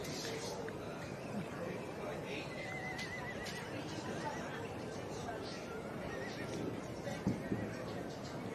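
Welsh Cob section champion and reserve champion foals with their dams in a livestock show's main ring; a whinny rises over a steady crowd murmur and outdoor hubbub, with faint hoof sounds.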